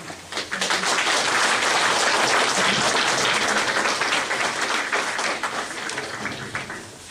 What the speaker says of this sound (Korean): 의견이 없으시면 박수로 함께